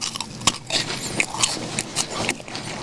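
Someone bites into a Mom's Touch cheese ball, a close, crisp crunch followed by a few seconds of chewing, with no talking.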